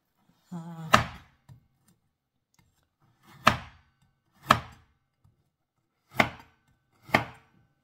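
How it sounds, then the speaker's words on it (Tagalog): A knife chops onions and carrots on a cutting board for lumpiang shanghai, five sharp, close knocks spaced about a second apart, with a brief voice heard at the start. "tapos hihiwain natin po mga lalabs itong onions at saka carrots natin."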